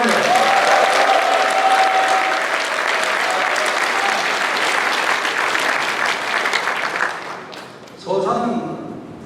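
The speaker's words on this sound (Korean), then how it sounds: "박수 한번 보내주시기 바랍니다." Sustained applause fills a hall at a Korean People Power Party members' event in South Chungcheong, loud and steady for about eight seconds, then briefly thinning before a fresh burst of clapping and murmuring voices.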